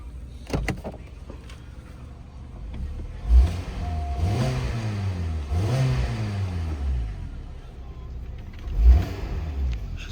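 A 2013 Hyundai Tucson AWD compact SUV engine revs up twice in rising, moderate surges, with a few clunks and door-like thumps around it.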